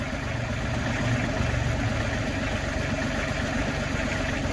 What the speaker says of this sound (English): This is the first time we've actually dug with this backhoe into some dirt.